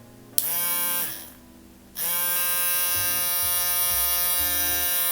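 A cheap electric nail drill machine used for gel nail removal whirs with a loud, steady high-pitched tonal buzz. It starts, briefly drops and falls quiet, then spins back up and keeps running close and alone.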